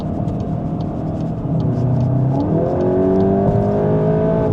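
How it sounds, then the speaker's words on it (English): A VW Golf GTI Edition 50, Mk8.5, accelerating hard at full throttle, heard from inside the cabin as a steady engine drone that climbs in pitch and grows louder. "Wow, full throttle."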